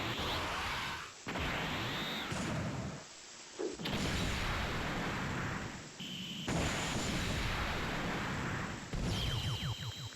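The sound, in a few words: rocket launcher firing in a Dragon Ball video game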